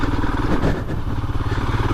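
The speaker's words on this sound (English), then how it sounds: "this Himalayan, it's just got an old school charm to it, the sound" A Royal Enfield Himalayan motorcycle engine runs steadily on a trail ride, a loud, continuous low thrumming close by with a brief clattering thump partway through.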